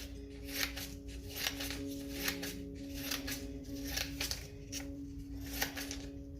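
Thin paper strips being snipped with scissors into a tub for papermaking, a steady run of repeated crisp cuts, close and fairly quiet, over a faint low steady hum with no talking.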